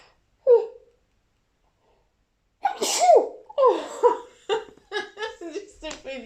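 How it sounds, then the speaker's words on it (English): A single sharp sneeze bursts out, followed after a pause by a run of giggles and chuckling laughter in close, clear bursts. "I need to sneeze, I need to sneeze. I better tell them I'm about to sneeze."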